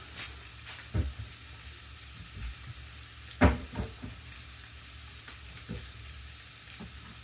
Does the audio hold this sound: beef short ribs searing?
yes